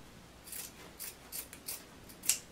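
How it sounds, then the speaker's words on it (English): Scissors snip through polyester fiber fill for a bench seat cushion, giving five close, crisp cuts spaced about half a second apart, the last one loudest. "then I'm going to go ahead and cut the polyester fiber fill"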